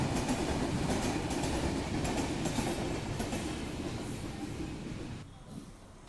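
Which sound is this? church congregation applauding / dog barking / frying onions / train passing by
train passing by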